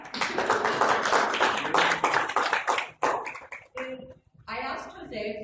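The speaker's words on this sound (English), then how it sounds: "Yeah, applause." Scattered clapping comes from guests at an outdoor Independence Day barbecue celebration, irregular and fairly close, fading out partway through, with talk and voices mixed in alongside.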